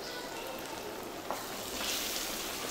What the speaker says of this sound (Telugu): ఇందులో కొంచెం ఆయిల్ పోసి మష్రూమ్స్ కూడా వేసేసుకున్నాము.